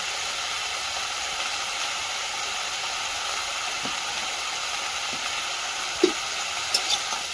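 Salt, turmeric and spices sauté in a pan over a wood fire at night, giving a steady close sizzle and hiss with a few faint stirring knocks and clinks near the end.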